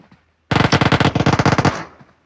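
Rapid automatic gunfire in the mobile battle-royale game PUBG Mobile, a single loud burst of about a dozen shots lasting just over a second, heard alone.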